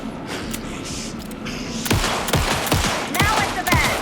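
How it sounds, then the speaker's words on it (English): Loud video game gunfire in Alan Wake 2 bursts out after a tense, quieter start, with several heavy close shots fired in a quick uneven string and booming impacts. "Shoot him to pin him down."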